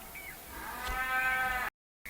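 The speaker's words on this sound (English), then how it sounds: "in the background you can hear our cow Star and her 9-month-old calf Sunshine talking to each other" A cow named Star and her 9-month-old calf Sunshine call back and forth on a farm in springtime, a drawn-out harmonic moo rising over a low background hum before a brief dropout.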